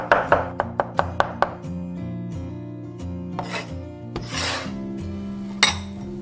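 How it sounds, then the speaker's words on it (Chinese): A knife chops garlic on a cutting board for a cold jellyfish-head salad, with a quick run of about eight sharp, evenly spaced chops at first, then scattered softer scraping and taps over steady background music. "准备多一点的大蒜、香菜碎，然后切成蒜末。"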